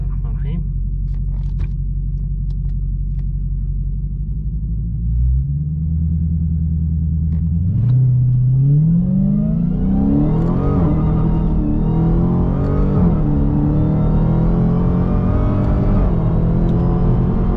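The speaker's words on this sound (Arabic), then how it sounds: "راح نتسارع شوي شوي لانه على 500 حصان" Dodge Challenger Hellcat with about 500 horsepower accelerating gradually from a stop after a burnout, a deep idle rumble rising through stepped gear changes into a climbing, loud engine roar.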